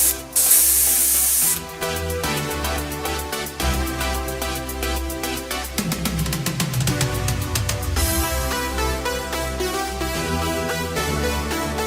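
Tamiya German Grey paint hisses from a spray can onto a 1/24 scale Lancia Delta model car body in repeated short bursts, close and steady.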